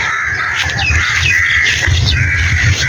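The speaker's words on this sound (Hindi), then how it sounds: "कौवे भी उड़ रहे हैं।" Crows call while flying over a village, giving harsh squawks and caws against a steady outdoor hum, with the calls fairly near and repeated throughout.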